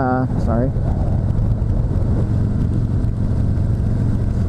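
A 2019 Harley-Davidson Sport Glide rumbles along on a ride with a steady low engine drone and wind noise, someone talking over it near the start.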